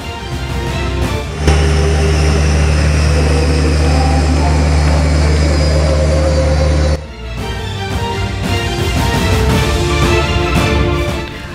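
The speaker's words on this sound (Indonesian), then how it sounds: "Berjenis pesawat angkut udara Airbus A400M memiliki kemampuan unik dengan kemampuan strategis yang siap dikirim ke titik-titik sulit" Airbus A400M military transport aircraft with its engines running loud and steady, a strong low drone that holds for several seconds, then cuts off and gives way to a rougher, broadband roar.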